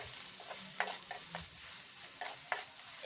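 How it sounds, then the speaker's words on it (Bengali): Onion paste and garlic paste fry in a pan, a soft sizzling hiss broken by several sharp spatula scrapes and stirs, close by with no talking. "পেঁয়াজ বাটা, রসুন বাটা দিয়ে আমি ভালো করে ভেজে নিব"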